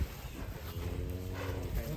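Big Belgian Blue cattle at a livestock contest give a low, drawn-out moo that fills the whole moment, close and steady over a noisy outdoor background.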